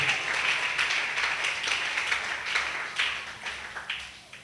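Sustained applause from a congregation at a Wednesday church service, many hands clapping together in a full, even wash that slowly thins toward the end.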